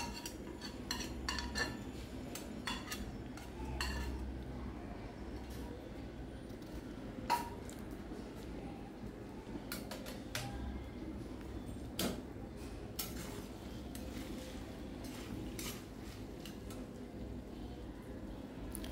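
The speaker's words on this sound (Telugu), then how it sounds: "చికెన్ ఇందులో వేసాం కదా, ఇవన్నీ కలిపి ఒకసారి మళ్ళీ ఫ్రై చేద్దాం." A spoon scrapes and clinks against a pan as chicken is stirred and fried again for Szechuan chicken. The clinks are scattered and irregular, sometimes sharp and sometimes soft, over a low kitchen background with no talk.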